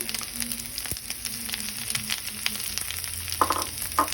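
Onions and potato paste fry in a hot pan for ragi masala dosa, giving a steady close sizzle with scraping stirs and a few clinks of a utensil toward the end, and no talking.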